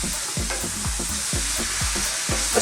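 Coriander, chili, cumin and turmeric powders are stirred into minced beef for an Indian keema curry, with a constant sizzle under rhythmic, repeated scraping strokes of a spoon across the pan.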